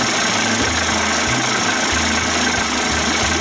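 A Johnson 25 hp outboard motor, converted toward 30-35 hp, running steadily at close range with a loud, rough low drone and uneven rhythmic pulsing.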